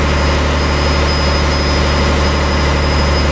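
Twin engines of a river passenger launch on the Barisal route, running in the engine room, a loud steady low drone with a constant mechanical whine, close and unbroken.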